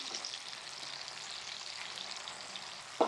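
Raw prawns frying in hot oil for prawns Manchurian, a steady faint crackling sizzle that holds evenly throughout, ending in a brief clatter.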